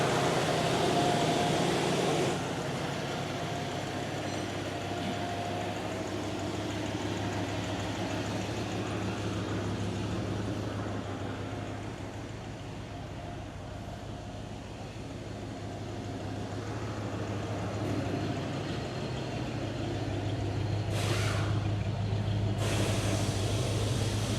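A 1978 Lincoln Continental Convertible's engine idles steadily and smoothly, humming continuously at moderate volume, low and even throughout, with a brief brighter hiss near the end.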